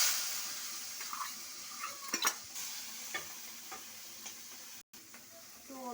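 Fish frying in a pan, a moderate sizzle punctuated by scraping and clinking of a utensil, close, with a brief dropout near the end.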